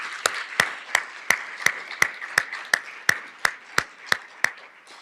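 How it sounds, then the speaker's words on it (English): At a community State of the Child event in Muncie, Indiana, hands clap in a steady, evenly spaced rhythm of about a dozen sharp claps. The beats are crisp and moderately loud against a quiet background. "So could you join me in giving another round of applause for Faith?"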